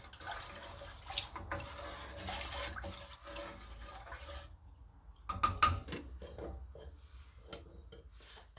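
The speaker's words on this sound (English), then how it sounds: "So I'm just going to give that a stir to make sure that that salt is mixed through." Salted water is stirred in a pot on the stove, with soft scraping swishes and light sloshing at close range, quiet and intermittent, plus a brief clatter midway.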